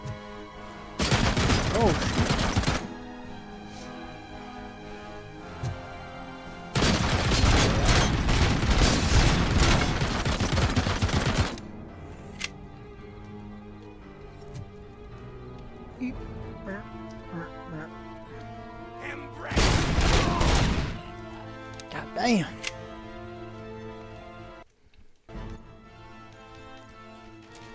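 Gunfire in the shooter game RoboCop: Rogue City comes in three loud, dense bursts of rapid shots separated by quieter stretches, with a voice speaking briefly between them.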